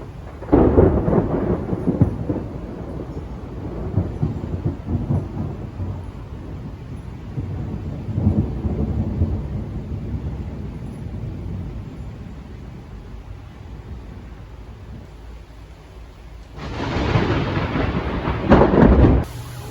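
Rain falling on a hot, dry garden bed freshly cleared of mulch, a steady broadband hiss that swells and fades in gusts, growing heavier again toward the end.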